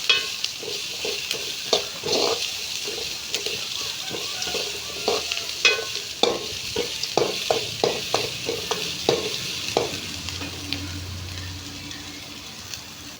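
Onions sautéing in a pan for a tamarind-style neem flower kuzhambu, a steady sizzle broken by frequent rhythmic scraping strokes of a spoon stirring, close and fairly loud, with no talk.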